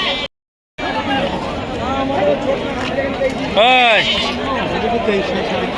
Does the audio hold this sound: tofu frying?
no